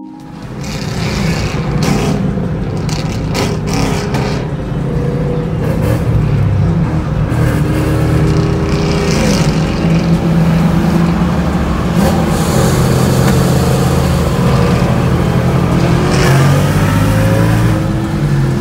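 A race car engine on a run from San Antonio toward Mexico revs and accelerates hard, a loud, close, continuous roar that climbs and shifts pitch through gear changes, with no talk over it.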